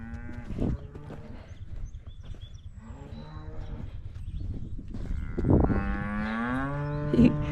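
Cattle moo repeatedly near a muddy walkway leading up from the pasture, long low calls that rise and swell, one following another close by and loud, with no talking.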